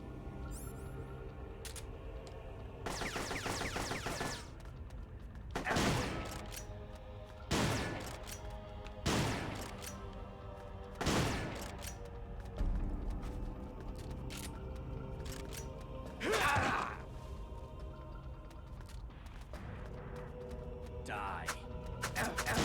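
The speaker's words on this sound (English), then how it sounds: "About to get shot with a shotgun." Shotgun fire in the video game Metal Gear Solid: Portable Ops, a series of separate loud blasts spaced a couple of seconds apart over a quiet game background.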